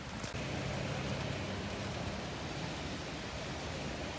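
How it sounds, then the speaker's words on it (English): Rain falling outdoors, a steady, dense hiss that stays even throughout with no breaks or voices. "It's raining."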